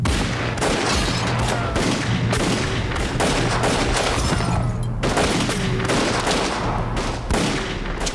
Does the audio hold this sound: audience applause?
no